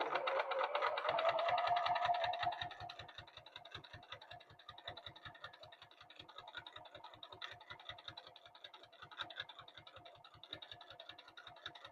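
A sewing machine stitching quilt-as-you-go blocks runs in a fast, even train of mechanical ticks, beginning with a louder whirring burst and then settling into a steady, moderately quiet rhythm.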